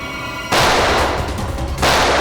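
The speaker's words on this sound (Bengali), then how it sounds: "সিআইডি অফিসারকে গুলি করে দিলি?" Sustained gunfire bursts from a TV crime drama, loud and dense, starting abruptly after a brief quieter lead-in and running continuously with a short dip before surging again.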